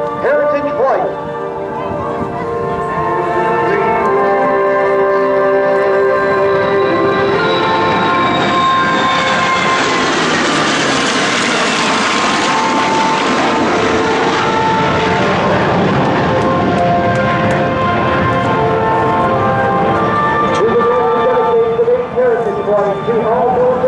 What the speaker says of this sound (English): Ladies and gentlemen, from your left, your United States Air Force Heritage Flight.